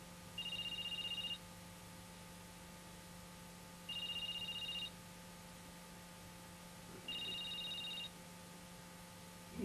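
A telephone rings unanswered, three evenly spaced double-tone rings over a steady electrical hum, faint and indoors with no voices.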